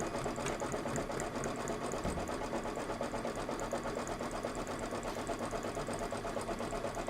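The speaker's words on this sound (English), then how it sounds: "we're going to do the final stitch out in white" An embroidery sewing machine stitches out a design in white thread on felt, a steady, even mechanical whir with fast rhythmic needle clatter that runs without pause and without talk.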